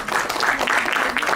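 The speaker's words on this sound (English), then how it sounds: "Let's have a huge round of applause for her." A talk audience breaks into a brief, dense round of applause, a continuous blur of clapping at steady loudness.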